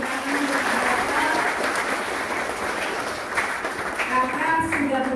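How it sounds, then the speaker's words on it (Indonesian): A seminar audience claps steadily in a sustained burst of applause, dense and fairly loud, with voices faintly audible underneath. "Berikan tepuk tangan untuk Kak Bartel."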